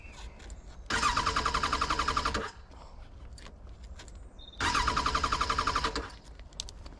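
A Suzuki Bandit 1200 motorcycle's immobilizer alarm blares in two loud bursts of rapid pulsing electronic beeps, each lasting about one and a half seconds, with a short quiet gap between them.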